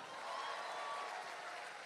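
An audience at the Lagos NLC 2024 grand finale claps for themselves, a steady wash of dense, fairly faint applause that holds evenly throughout without a break.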